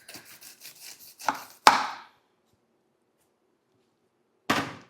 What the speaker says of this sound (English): I'll just cut off the crown, or the head, anyone.